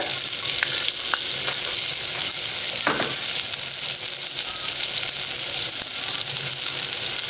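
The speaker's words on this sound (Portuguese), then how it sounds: "Eu vou colocar para refogar meia cebola." Half an onion sautés in butter and oil in a pan, giving a steady close sizzle and crackle with a few scraping stirs, no voices.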